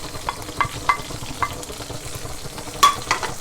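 Garlic sizzling in hot olive oil for orecchiette with kale and pecorino romano, a soft steady crackle close by, punctuated by several sharp metallic clinks of a utensil against the pan.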